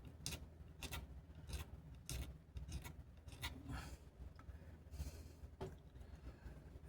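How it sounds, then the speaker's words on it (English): A razor blade scrapes dried paint dots off a surface, a faint series of short, rasping strokes repeating at an uneven pace, close to the microphone with no talk. "we're going to take our razor blade and scrape this off"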